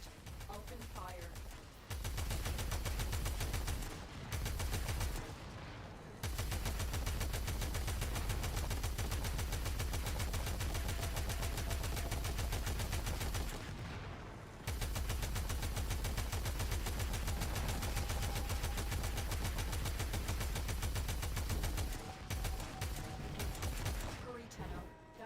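Sustained rapid gunfire in the sci-fi shooter Warframe, aimed at an exposed reactor core, with long dense bursts of automatic fire broken by a few short pauses, loud and close.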